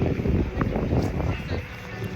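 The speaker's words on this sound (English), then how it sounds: "Very windy, so bear with me." Strong wind buffeting a microphone on a city street in Liverpool, a loud continuous rumbling roar with gusty swells under someone speaking.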